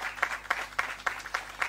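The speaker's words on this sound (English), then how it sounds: "Let's give her a round of applause." Scattered audience clapping at a breast cancer awareness symposium, sparse distinct claps in a loose rhythm heard fairly close in a room.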